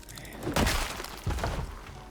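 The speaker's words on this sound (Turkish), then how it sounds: "Camı kıracak şimdi o." Window glass shatters as a zombie breaks through in Project Zomboid: a sharp crash and then a second smashing hit, loud and close, with tinkling debris after each.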